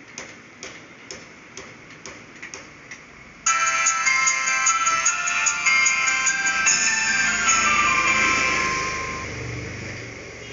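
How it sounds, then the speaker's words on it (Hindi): Startup on an Itel it2163 mobile phone: a run of regular soft ticks, then a loud bright chiming ringtone-like melody that plays for several seconds before fading out, with no talking. "हम जो है इस फ़ोन को स्टार्ट कर लेते हैं"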